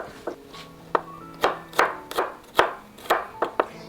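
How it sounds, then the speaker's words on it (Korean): A knife chops through a tomato on a board in about ten uneven strokes, each a crisp tap against quiet background. "적당하게 썰어서 심지는 잘라내주고요."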